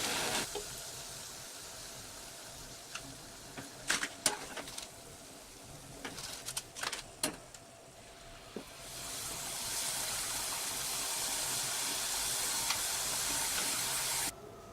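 Nachos sizzle while frying in hot oil, with scattered clinks and taps from handling early on, then a louder, steady frying hiss swells and carries through to the end.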